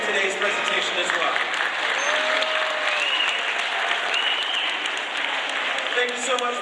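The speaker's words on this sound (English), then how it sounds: "Let's give a big round of applause for all the trainers we met in today's presentation as well" An aquarium audience claps steadily for the marine mammal trainers at the close of a beluga whale show, broad sustained applause that fills the stands, with faint whistling tones and voices mixed in.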